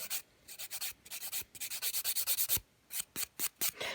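A hand file rasps against a gel nail enhancement near the cuticle in quick, even back-and-forth strokes, a rapid rhythmic scratching that pauses briefly between bursts, close and alone.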